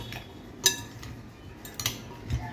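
A vegetable salad of cucumber dressed with vinegar is stirred in a bowl, giving three soft, scattered clinks of a utensil against the dish, close and quiet with light rustling between.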